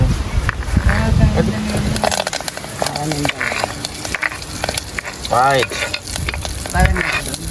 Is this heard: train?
no